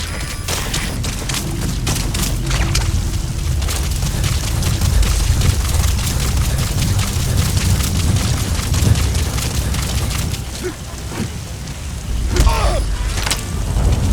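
Dense battle noise from the video game Metal Gear Solid V: The Phantom Pain, with booming explosions and crackling gunfire going on nonstop. The din is loud and close, with brief shouting among it.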